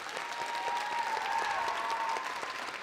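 A small audience at a creative writing reading claps steadily for about three seconds, an even patter of hands at moderate distance with a faint tone running through it.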